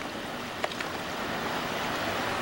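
Steady ocean surf at sunset, a continuous broadband wash of waves with light wind, even in level throughout, with a couple of faint brief clicks near the start.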